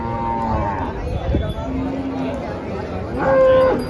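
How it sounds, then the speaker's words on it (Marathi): Cows at the Dhule cattle market moo loudly near the end, a long tonal call rising over a steady bustle of crowd chatter and market noise, with softer lowing earlier under the background talk. "आता इथं काही व्यापाऱ्यांच्या गायी मित्रांनो"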